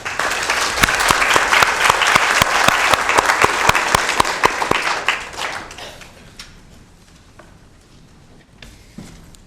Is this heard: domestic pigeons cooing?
no